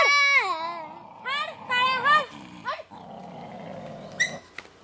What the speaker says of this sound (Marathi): हे दुसरे कुत्रे जवळ यायलेत ना म्हणून भुकायले।